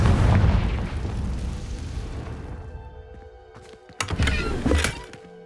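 A fiery spell explosion in Hogwarts Legacy booms loudly at the start and rumbles away, followed by a few sharp magical chimes and thuds in the game's sound.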